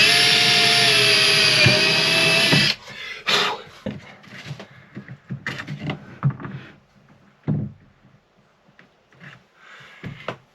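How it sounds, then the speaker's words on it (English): A power drill bores a hole through wooden boat floorboards on a Drascombe Lugger, starting with a loud continuous whine for about three seconds, then stopping. Scattered knocks and handling clatter follow in quieter bursts. "So we're going to drill the hole here."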